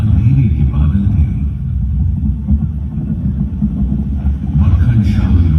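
Storm-at-sea sound effect in a light and sound show about a Sikh merchant caught in a storm mid-ocean: a loud, continuous deep rumble and roar that churns steadily throughout.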